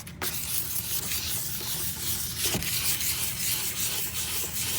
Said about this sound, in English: I'm letting the sandpaper do all the work.